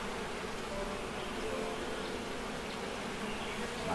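Bees buzz in the beekeeping video game APICO, a steady, dense, close drone that holds level without pause.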